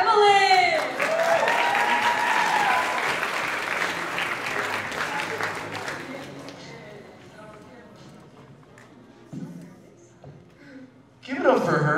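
Audience at a live stage performance claps and cheers for a nervous performer, a loud full burst of applause that gradually thins out over several seconds before a voice speaks near the end.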